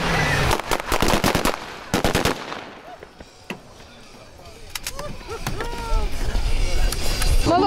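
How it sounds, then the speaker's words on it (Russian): Sharp bursts of staged gunfire from a hostage rescue demonstration, loud rapid volleys near the start, then scattered single shots and a crackling spread of reports over a noisy crowd with shrieks and voices. "даже выстрелы почти как настоящие"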